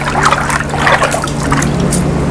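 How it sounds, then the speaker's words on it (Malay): Fertilizer is stirred into a container of water for an indoor floating-raft hydroponic system, giving a loud, continuous, close swishing and sloshing. "kita perlu kacau dulu supaya baja tadi sekata dalam air ni"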